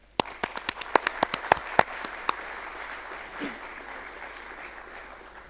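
An audience at a foundation day symposium starts with a few scattered, separate claps that quickly swell into steady, moderately faint applause filling the hall.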